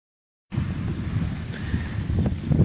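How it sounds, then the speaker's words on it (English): Strong wind in Scotland buffets the microphone in a steady, heavy rumble after a brief silent start, close and loud with no voices. "the wind is so strong"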